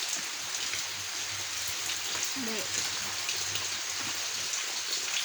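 Heavy rain falling at night at 11:20, a steady broad wash of drops on surfaces that stays constant throughout, with a brief faint voice-like sound partway through.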